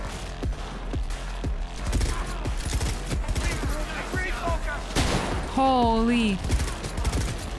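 Gunfire in the Cyberpunk video game, a flurry of sharp shots and rapid bursts amid chaotic action noise, with a player's voice exclaiming briefly and a rising tonal effect near the end.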